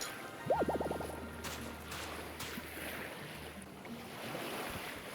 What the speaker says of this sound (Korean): 파도 소리 들으면서 밤 해변 걷고 있으니까